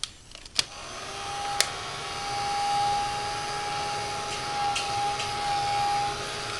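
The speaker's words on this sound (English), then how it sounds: "hit it with the heat gun" A heat gun blowing on a glued recycled paper flower, giving a steady, close, airy whine with a faint tone, preceded by a few light clicks and knocks.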